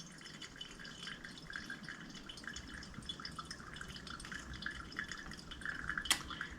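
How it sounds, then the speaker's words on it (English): Hot water is poured slowly over ground coffee in a pour-over, a soft, steady trickle and gentle splashing close by, quiet and continuous with a small clink near the end. "We'll start in the middle and pour real slow"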